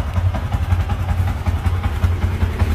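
A Yamaha Exciter 150 motorcycle idles nearby, a loud, steady low engine thrum with a fast, even pulsing beat throughout.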